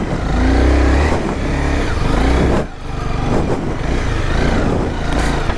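A Honda CBR 250R motorcycle rides off-road on a hilly route, its engine loud and close, revving and droning with a brief dip midway before pulling again.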